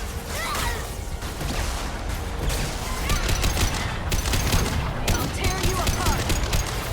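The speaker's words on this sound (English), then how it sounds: "Firing a high impact shot." Gunfire in a Mass Effect 2 firefight, including a high impact weapon shot among dense rapid bursts, whooshes and impacts, loud and continuous throughout.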